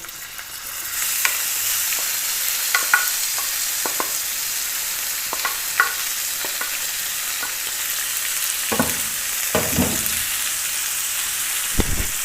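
Minced meat sizzles with browned garlic in a pan for qeema kachori, a steady loud fry broken by repeated scraping and stirring clatters close by.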